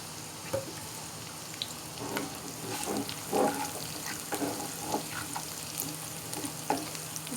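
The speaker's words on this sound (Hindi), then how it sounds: "इसे हल्का सा फ्राई करेंगे।" Chopped garlic, cumin seeds and whole dried red chillies fry in hot oil for a dal tadka, giving a steady low sizzle with scattered crackles and small pops throughout, fairly quiet and without speech.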